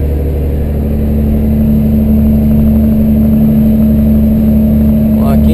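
A vehicle engine cruises in fifth gear on the BR 116 highway in northeastern Brazil, a steady, loud low drone with constant road and wind noise throughout, no change in pitch.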